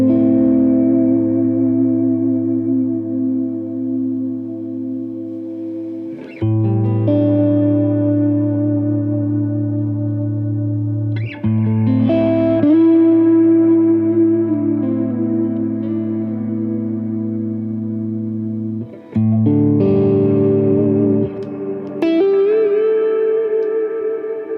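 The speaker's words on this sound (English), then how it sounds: "This first one is a Vox, fairly low drive." Electric guitar through a Hotone Pulze practice amp modeling a Vox at low drive, sustained chords ringing out with reverb and echo, struck anew every few seconds, no talking.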